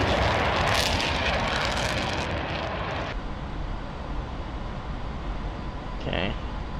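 An A-4E Skyhawk jet in a combat flight game roars steadily at full power, a loud broadband engine drone that holds throughout, dulling slightly partway with a brief higher tone near the end.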